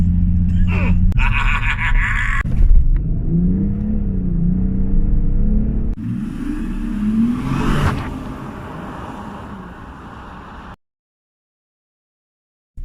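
Audi Q7 V12 TDI diesel SUV cruising at speed on a highway, a steady loud engine and road rumble with wind whoosh that gradually fades, then cuts to silence near the end.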